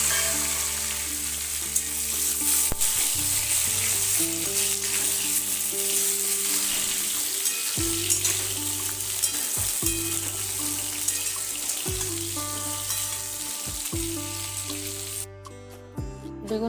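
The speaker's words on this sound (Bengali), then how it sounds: "ওই তেলে বেগুনগুলোকে ভেজে নেব" Long-cut brinjal slices fry in oil left from frying fish, giving a continuous crackling sizzle under steady background music, with occasional stirring and no talking.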